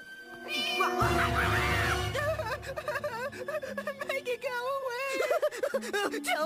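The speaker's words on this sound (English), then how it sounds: "It's just a baby kitten." Tiny cartoon baby kitten meowing in a high, wavering cry, close and sustained over a busy soundtrack with other animated voices.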